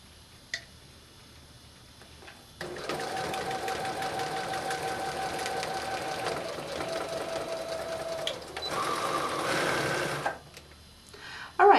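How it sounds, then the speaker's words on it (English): A sewing machine runs steadily through fabric for several seconds, pauses briefly, then stitches again in reverse, its rapid mechanical ticking clear and close against a quiet room. "I'm going to take a few stitches forward, stop, reverse."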